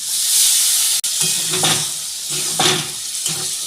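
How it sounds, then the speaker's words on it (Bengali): Spice paste water hitting a hot pan for a mushroom curry, giving a loud steady sizzle and steam hiss, with a few stirring scrapes breaking through close by. "আমি মশলা বাটার জলটা দিয়ে দিচ্ছি"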